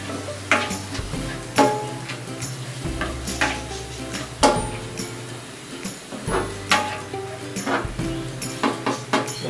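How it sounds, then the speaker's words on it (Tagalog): Button and rat ear mushrooms tip into a pan with a series of clattering knocks and scrapes as a utensil stirs them, over a low steady hum of kitchen noise. "we'll add our mushrooms, our button mushrooms, and our rat ear mushroom."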